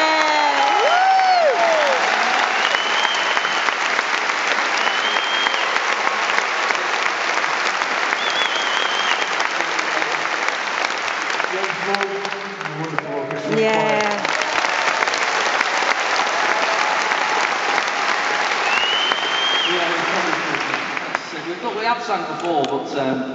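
Audience at London's Royal Albert Hall applauds loudly and steadily for over twenty seconds, with scattered cheers and whistles, and voices briefly speak over the clapping.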